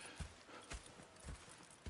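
Horses walking in the Red Dead Redemption 2 video game, with hollow clip-clop hoofbeats landing in an uneven, unhurried rhythm, fairly faint and alone with no talk over them.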